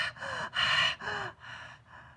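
A voice imitates the irregular Cheyne-Stokes breathing of a dying person: a run of heavy, rasping breaths and gasps that swell, then weaken and fade, close and alone with no talk.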